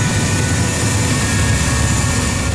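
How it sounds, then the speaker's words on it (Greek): F-4E Phantom II jets of a Greek air force squadron at Andravida air base after a night strike mission, heard as a steady, loud, broadband engine roar with a deep low rumble and no pauses. "Τα F4Y Phantom της 338 μοίρας μόλις έχουν επιστρέψει από μία ακόμα νυχτερινή αποστολή κρούσης"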